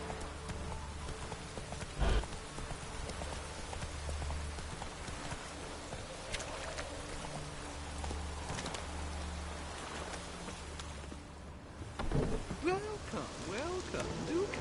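A horse's hooves clip-clop steadily through rain in the Witcher video game, a close, even trotting rhythm under a constant patter of rainfall, with a brief snort and a short spoken line partway through.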